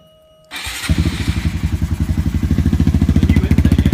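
A Honda Grom MSX125 race bike with a new intake cranks and catches, then settles into a loud, close, lumpy idle with a rapid rhythmic thump.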